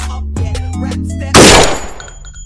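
An M4 rifle fires inside the cockpit of an AH-64 Apache helicopter in the DCS combat game, a single sharp, loud shot cracking after a stretch of tonal music-like background sound.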